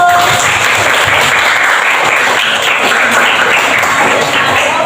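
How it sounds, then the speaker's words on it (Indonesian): A room full of people applauding, steady dense clapping at close range that carries on for several seconds. "tepuk tangan untuk Farul"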